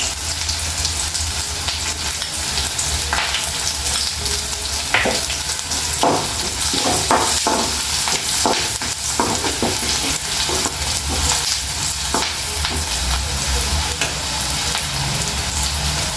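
Bitter gourd slices fry in a pan with a steady loud sizzle, while a spatula stirs them in scraping, clattering bursts throughout.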